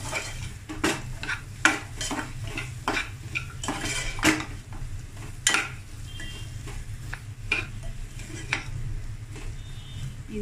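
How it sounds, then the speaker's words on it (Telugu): A utensil stirs chopped tender amaranth stems in a cooking pan, with repeated sharp metal scrapes and clinks over a low sizzle, close and irregular in rhythm, no talking. "ఈ ముక్కలు మనం ఇందులో వేసుకుందాం. మళ్ళీ ఒకసారి కలుపుకుందాం."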